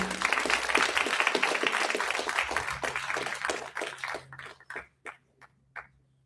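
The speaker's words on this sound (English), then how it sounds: "Another round of applause while we wait." Audience applause at a society launch event after a panel talk, a full burst of clapping from a crowd that thins out into a few scattered, isolated claps near the end.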